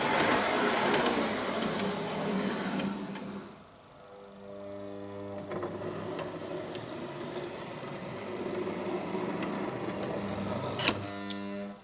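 A Hornby Class 390 Pendolino model train in Avanti West Coast livery, nine carriages long, runs along track with a steady motor whir and rolling clatter that dips briefly, then resumes with tonal hum until near the end.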